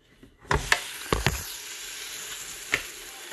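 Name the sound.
keto corn dog waffle batter cooking in a waffle iron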